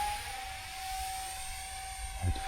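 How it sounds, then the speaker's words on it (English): 3D printed J-36 model jet with three 40mm EDF motors in a test flight, a steady high electric ducted-fan whine held throughout at moderate distance, with a brief low thump near the end. "I have a switch on the middle motor and I can switch off the motor."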